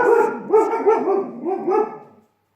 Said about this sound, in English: One of my dogs heard another dog outside and insisted on making contact.